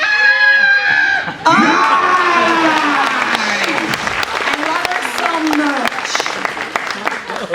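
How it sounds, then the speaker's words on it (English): A live audience at Universal Orlando's horror makeup show screams loudly together on cue, a dense, close burst of many voices that trails into cheering, shouts and scattered clapping. "on the count of 3, scream as loud as you can"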